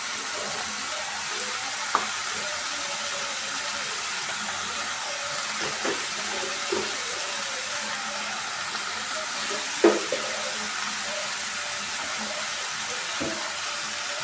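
Purple cabbage and onions sauté in a pan with a steady, close sizzle, broken now and then by faint clicks and scrapes of stirring.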